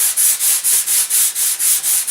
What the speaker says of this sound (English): I'm just carving it flat, or sanding it to maintain that flatness.